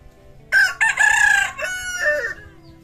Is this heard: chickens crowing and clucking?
yes